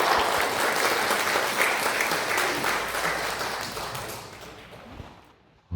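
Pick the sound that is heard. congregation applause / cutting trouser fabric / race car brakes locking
congregation applause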